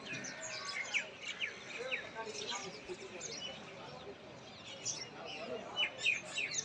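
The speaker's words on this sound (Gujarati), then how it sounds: "પોપટ પોપટ." Busy morning birdsong with repeated sharp, high chirps and squawks from several parrots scattered throughout, over a steady outdoor background.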